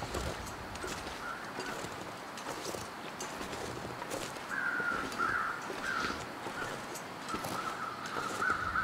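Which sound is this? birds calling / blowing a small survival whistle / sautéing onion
birds calling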